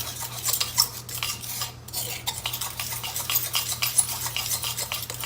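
A utensil scrapes and taps rhythmically against a bowl while mixing a clay face mask, giving close, quick stirring strokes over a low steady hum, with no talking.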